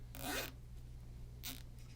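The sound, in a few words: plastic zip tie being pulled tight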